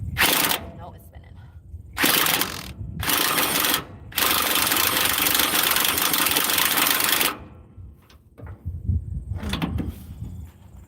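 A John Deere hay mower mechanism spins in loud, harsh mechanical bursts that start and stop several times, with one long sustained run in the middle and brief talk in the quieter gaps.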